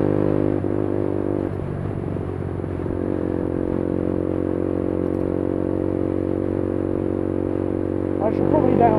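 A KTM Duke 125cc motorcycle engine drones steadily and loudly while riding, a continuous buzzing hum that rises slightly near the end, with someone talking over it.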